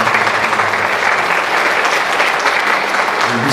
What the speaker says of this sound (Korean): 박수로 환영하십니다.